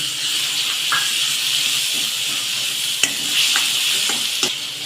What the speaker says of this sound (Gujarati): લસણ સરસ કચરાઈ જાય એટલે આપણે ડુંગળી નાખીશું અને મરચાના કટકા નાખીશું